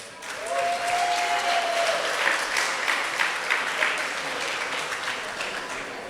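An audience at a community diversity celebration claps for performers, a dense, sustained burst of applause that holds steady for several seconds and then eases slightly.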